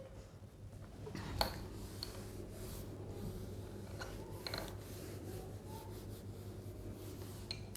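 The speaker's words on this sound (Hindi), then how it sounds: "अब देखो मैं इसको अब रब कर देती हूँ ज़रा सा" Soft scratchy rubbing of an eraser on paper over a geometry drawing, a few faint strokes with small ticks, close and quiet.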